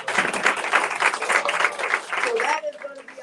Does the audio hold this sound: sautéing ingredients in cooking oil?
no